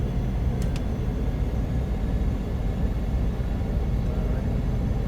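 Small airplane taxiing in Puerto Rico, its engine a steady, close, droning rumble with a constant hum and no pauses.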